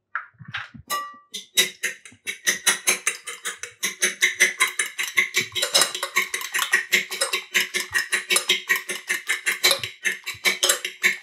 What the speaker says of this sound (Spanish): lo echamos en un plato hondo y con la ayuda de un tenedor lo batimos